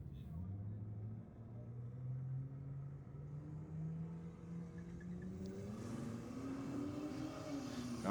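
A Toyota Corolla and a Holden VL launch off the start line at a drag strip, distant engines revving and rising in pitch under a commentator's voice.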